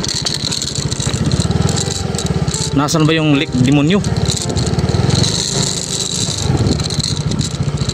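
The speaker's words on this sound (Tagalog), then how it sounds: "Naawa ako sa aking motor mga kawakwak kasi mabato yung daanan." A motorcycle engine drones steadily while riding over a rocky, tree-lined road toward Damon Lake, with someone talking over the rumble partway through.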